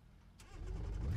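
A car engine in the racing simulator BeamNG, damaged after a crash, turns over and rumbles up in a low, rising drone as the car stalls, close and steady over about a second.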